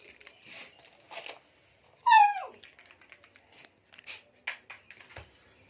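A street dog whimpers once in a short, high, wavering whine, close and fairly loud, amid quiet household clatter and small knocks indoors.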